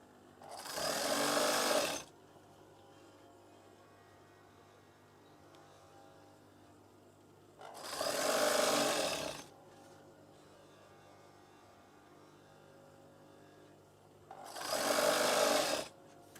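A sewing machine stitching curtain fabric in three separate loud, close bursts of rapid whirring, each about two seconds long, with quiet pauses between them.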